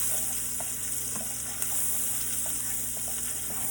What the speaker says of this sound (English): we're gonna give these bad boys some nice saute and some butter